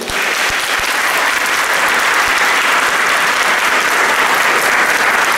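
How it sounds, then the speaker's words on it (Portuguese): A crowd applauding loudly and steadily during a festival Mass in church, sustained clapping for several seconds with no pauses. "Palmas para Jesus."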